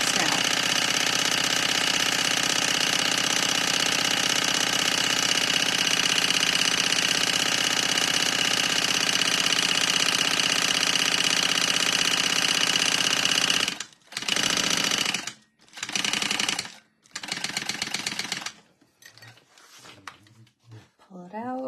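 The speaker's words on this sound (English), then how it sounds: "So I'm just sewing down the sides of these straps now." A sewing machine stitches down the sides of bag straps, running as a loud steady mechanical whir that then breaks into several short start-stop bursts near the end.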